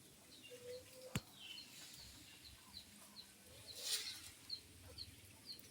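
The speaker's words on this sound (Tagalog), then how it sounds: "Yun pa yung iba kong mga manok ha." Chickens cluck softly in short bursts at a moderate distance, with a sharp knock and other bird calls scattered through a quiet outdoor background.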